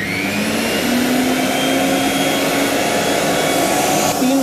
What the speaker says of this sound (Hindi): इस मिक्सी का नुमाइश लेवल 85 dB है।